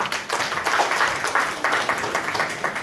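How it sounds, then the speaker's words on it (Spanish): A classroom audience at a bilingual intercultural education session claps for about three seconds, a moderately loud, uneven patter of many hands with no clear talk over it. "Sí, un aplauso."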